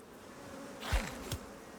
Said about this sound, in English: Yep, the bees are back. Come here, bees.